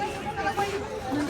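Crowd chatter at Neelkanth Mahadev temple in Rishikesh, a steady murmur of many voices with no single voice standing out, holding at an even, moderate level throughout.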